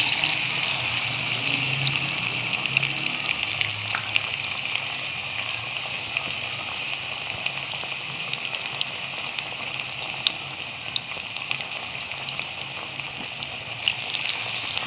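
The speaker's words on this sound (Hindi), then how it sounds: "हमने इसको मीडियम फ्लेम पर गोल्डन फ्राई करना है" Fish pieces coated in thick masala frying in oil over a medium flame, a continuous close, even sizzle with fine crackling, no voices.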